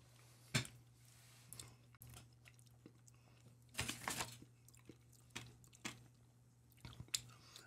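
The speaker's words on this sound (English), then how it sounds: "Kinda hard to chew it for 90 seconds" Someone chews a 16 million Scoville spicy chip in close, crunchy bursts with quiet pauses between bites. The loudest cluster comes about four seconds in.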